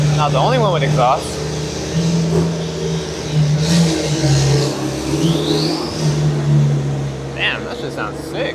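A Porsche GT4 RS engine and exhaust rev up, a mid-pitched throaty drone that rises and falls under someone talking, heard close by.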